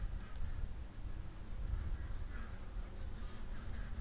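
Ducks quack and honk softly at a distance over a steady low rumble of outdoor noise, with no one talking.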